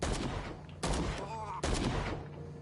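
Gunfire in the Call of Cthulhu video game: three loud, sharp blasts spaced about a second apart, each trailing into a ringing decay, with a faint voice murmuring between them.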